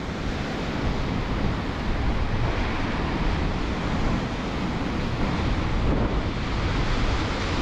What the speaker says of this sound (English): Here's some big ones coming now, folks.